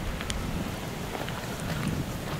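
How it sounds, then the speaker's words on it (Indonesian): Steady wind rushes and buffets the microphone in Ubud's Monkey Forest, a loud broadband roar lasting the whole moment with faint scattered outdoor sounds beneath and no talking. "Angin itu salah satu tanda kita disambut."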